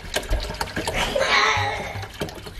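Distilled water poured from a container into an AeroGarden indoor garden reservoir makes a steady splashing trickle lasting a few seconds, with faint background voices.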